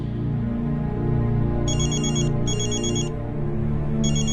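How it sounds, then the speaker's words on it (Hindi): A phone ringtone chimes in short repeated bursts over a steady low hum, three rings spaced about a second apart. "12 बजे अंतरा के फोन पर रुद्र का कॉल आया।"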